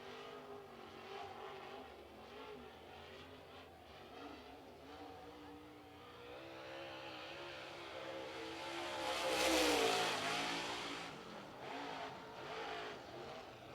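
A super late model race car runs a qualifying lap at Lancaster Motor Speedway. The engine drones from a distance, swells to a loud roar as the car passes close by, then fades away.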